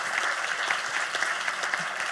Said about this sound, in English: And let's have a round of applause, if it's not too early, for Andrew and the whole TWT team